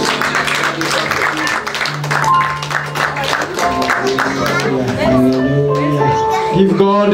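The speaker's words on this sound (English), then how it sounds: "Clap those hands for Jesus." A church congregation clapping for Jesus during a worship service, with rhythmic hand claps mixed under voices, loud singing and talking throughout.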